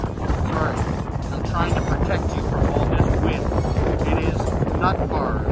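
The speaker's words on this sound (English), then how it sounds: "The wind is like super crazy right now." Strong outdoor wind buffets the microphone at a parkour park with a cement structure, a loud continuous low rumble throughout, with a person talking over it.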